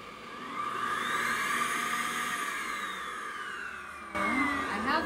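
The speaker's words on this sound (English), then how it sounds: "This one is Xiaomi Deerma. What are you again? Dust Mite Vacuum." A Xiaomi Deerma dust mite vacuum cleaner runs with a steady, loud whir and a high whine throughout, its pitch shifting slightly near the end as it is moved over a surface.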